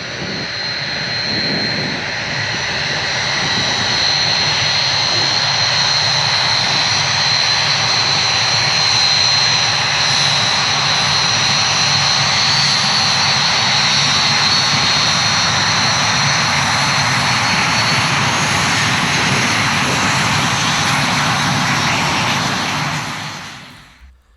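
Red Arrows jets take off at RAF Scampton in a sustained, loud roar with a high whine on top, building and holding steady before cutting off abruptly.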